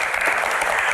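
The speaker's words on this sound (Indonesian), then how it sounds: "Tepuk tangan untuk para panelis kita." Dense, steady studio audience applause for the panelists of a televised Q&A talk show, loud and close, filling the whole brief moment with no gaps.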